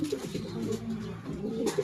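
A pet pigeon coos in low, soft rolling tones, close by, in a short continuous burst with a brief rise near the end.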